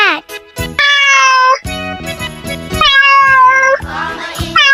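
A cat meows several times in a kids' farm-animal song, clear drawn-out meows alternating with short percussive hits and jingly music, loud and close.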